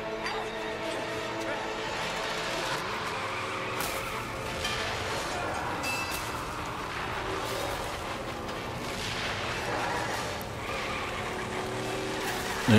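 A car driving off in the Mad Max game, a continuous rough engine roar with skidding and rumble, close and loud throughout, with voices over it.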